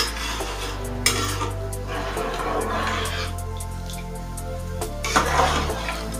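A pot of vegetable rice with added water is stirred with a metal spoon. It gives repeated scraping clinks against the pot and soft sloshing, close and fairly loud.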